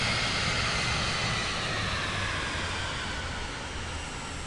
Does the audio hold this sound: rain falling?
no